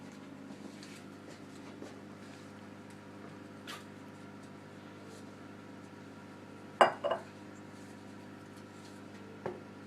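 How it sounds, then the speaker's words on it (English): A fork stirs baking ingredients in a bowl, giving faint, quiet scraping with a few sharp clinks against the bowl, one louder double clink near the middle. "So now I'm going to mix it up with a fork."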